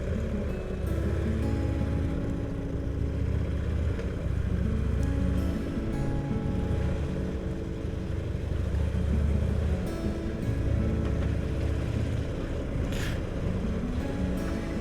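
A Buell XB12Ss Lightning Long motorcycle engine rumbles while riding, a steady, loud low-pitched drone with wind rush over the microphone, holding an even throbbing tone throughout without talk.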